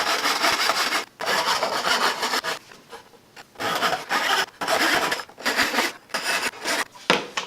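A hand saw cutting a 7/8-inch wooden dowel into pieces, loud close rasping strokes in bursts of about a second with short pauses between, no talking.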